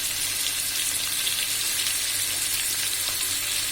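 Garlic paste and dried chili paste fry in a pan with a dense, even crackling sizzle, close and continuous, with faint stirring underneath.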